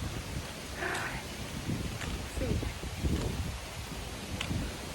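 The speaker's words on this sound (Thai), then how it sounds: "ลมแรงมาก" Steady gusting wind roars and buffets the microphone, with rustling leaves in a noisy, blustery outdoor setting at Benjakitti Park, Bangkok.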